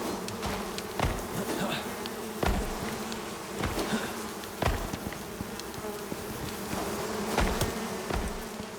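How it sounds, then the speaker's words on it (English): A swarm of bees drones in the Icarus video game, a continuous dense buzzing throughout with occasional sharp clicks and thumps over it. "Or see if you're attacked by 500 bees instead"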